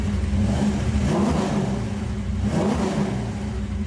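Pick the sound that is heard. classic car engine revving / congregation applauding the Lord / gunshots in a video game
classic car engine revving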